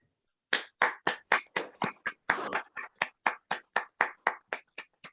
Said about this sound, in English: let's just show our appreciation, and a little round of applause, please,